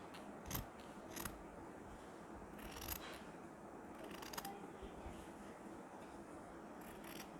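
Scissors cut fabric of a nauvari sari between two stitch lines, with several sharp close snips at irregular intervals over a quiet, steady background hum, no talking.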